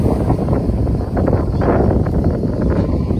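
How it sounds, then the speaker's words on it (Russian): Strong wind at the seaside buffets the microphone in a continuous low, roaring rumble that stays loud throughout the short clip. "Сегодня какой-то сильный ветер."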